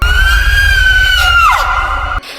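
An old woman's long, high scream in a horror story, a single sustained wail that bends downward near the end, loud and alone before cutting off abruptly.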